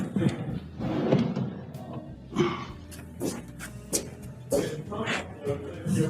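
A wooden nightstand drawer with a felt-lined top drawer slides open and shut, several close knocks and sliding thumps in an irregular rhythm, with some voice present.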